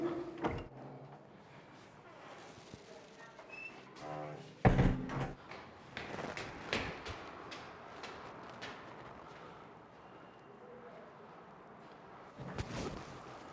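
At an apartment door, a person knocks and handles the door in scattered thumps and rattles, with one louder bang near the middle and another toward the end, over quiet room noise.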